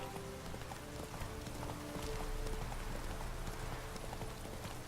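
Roach, Geralt's horse in The Witcher 3, trots with steady clip-clopping hooves, a continuous rhythmic patter at moderate distance over a soft ambient background.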